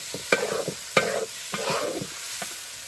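Onions frying in a pan are stirred with a utensil, giving several rhythmic scraping strokes over a soft, steady sizzle, with no voices.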